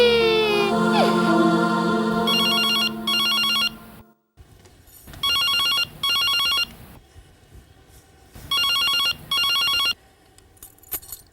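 A telephone bell rings in repeated double bursts with silent gaps between them, clear and close, following an opening stretch of other tonal sound.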